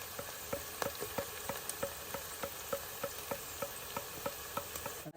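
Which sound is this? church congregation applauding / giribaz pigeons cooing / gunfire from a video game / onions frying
onions frying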